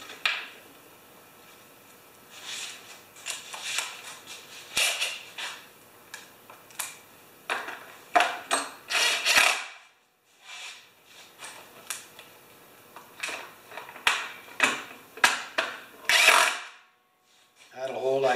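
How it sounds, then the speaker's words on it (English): Ratchet wrench clicking in quick bursts as bolts on a Powermore mower's gas tank are tightened, sharp close ticking runs broken by short pauses. "Ratchet."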